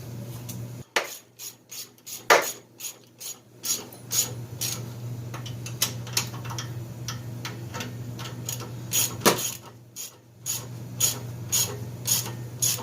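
Ratchet wrench tightening the bolts of a newly fitted flex pipe, with washer and lock washer, on a Ford Focus exhaust: a close run of quick clicking bursts with short pauses between strokes.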